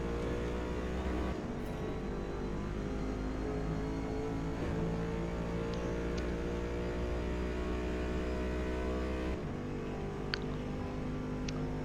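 A C8 Corvette in Forza Motorsport roars at Le Mans in S class, its engine droning steadily with layered harmonics and brief gear-shift dips, loud and continuous without any talk.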